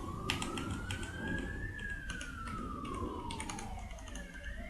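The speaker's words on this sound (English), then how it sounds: "There's a police siren in the background." A police siren wails faintly in the background, its tone slowly rising and falling, partly masked by close keyboard typing and clicking.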